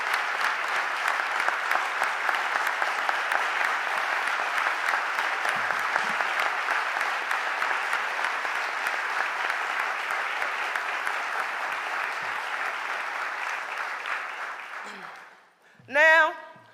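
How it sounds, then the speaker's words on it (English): A large audience at a mayor's first budget address gives a long, sustained round of applause that fades out after about fifteen seconds, followed by a brief burst of a voice. "Give them another round of applause."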